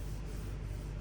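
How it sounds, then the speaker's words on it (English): Paint being wet-flatted by hand-sanding on a Honda Civic FN2 Type R body panel, a steady close scuffing rub with a soft rhythmic texture and no talk. "And then you keep flattening until there's no black, and then the imperfections are gone."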